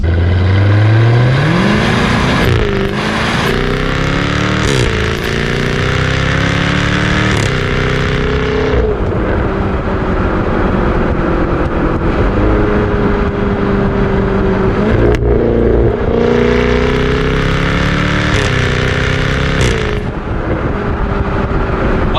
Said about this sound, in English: It's a V8, it's not very loud at the same time. I do have it in the aggressive sport mode right now